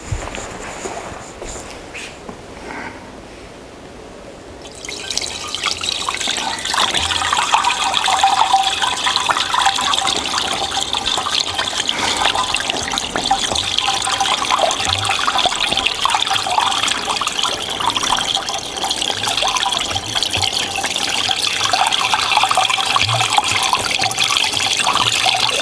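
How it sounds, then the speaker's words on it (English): Liquid mix pours steadily into a CB-350 countertop batch freezer for about twenty seconds, a continuous splashing rush starting after a few seconds of quieter background, close and fairly loud. "So we'll pour this into the machine."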